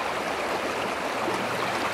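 River water flows steadily at a gold prospecting spot, producing a continuous broad rush of close, even sound with no voices.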